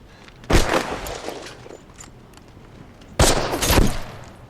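Gunfire rings out in a World War II TV drama scene involving a sniper: two loud, close bursts of shots, each with a ringing tail, separated by a quieter stretch.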